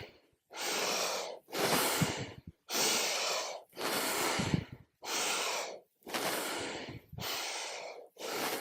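Hatha yoga breathing: seven or eight deep, audible breaths, each inhale or exhale lasting about a second, separated by short pauses in an even rhythm, close and clear, with no talking.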